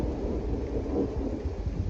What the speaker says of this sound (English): A crack of thunder's just gone off like a shotgun blast.